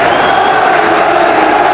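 A packed football stadium crowd roars loudly and continuously during a 1986-87 West Ham United match, with a dense wall of cheering and shouting fans.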